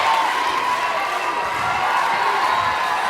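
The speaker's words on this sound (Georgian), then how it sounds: "მოდით აპლოდისმენტები გავაცილოთ" A studio audience at a televised singing competition claps and cheers after a band's performance, a dense, steady wash of applause with scattered shouts throughout.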